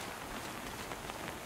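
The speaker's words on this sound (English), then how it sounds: "Rain is so loud right now." Heavy rain in the video game Ready or Not, a loud dense hiss of drops hitting surfaces with no break and no talking.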